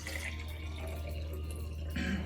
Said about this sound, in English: So first we're gonna add our water.